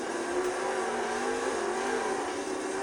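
A toy Mustang monster truck's small electric motor whines steadily and continuously, a loud, even buzzing drone with no voices over it.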